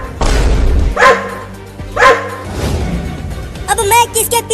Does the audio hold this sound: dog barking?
yes